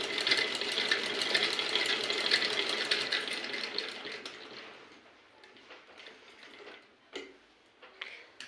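A home sewing machine stitches children's clothes with rapid, steady mechanical ticking for about four seconds, then slows and fades into quieter scattered clicks and handling sounds.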